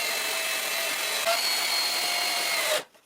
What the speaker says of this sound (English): because this is very soft wood, I will insert the screws straight away